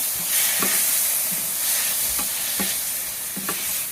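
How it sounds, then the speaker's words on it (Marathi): Finely chopped tomato sautés in a pan for banana flower sabji, a steady sizzle overlaid by a few distinct stirring scrapes spaced roughly a second apart, close and fairly loud with no talking. "एक मीडियम साईजचा टोमॅटो बारीक चिरून मी त्याच्यात टाकते. हे सगळं परतून घ्यायचं"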